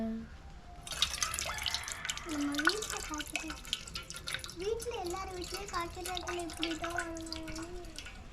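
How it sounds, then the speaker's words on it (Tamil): Water from a tender coconut splashes and trickles steadily into a container, with voices talking over the pouring. "தண்ணி கீழே ஊற்றுதுமா?"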